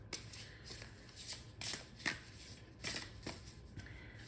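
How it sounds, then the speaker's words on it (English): A deck of tarot cards is shuffled by hand in a quiet room, with soft papery riffles and flutters that come in several bursts over a few seconds. "I love the way these cards shuffle."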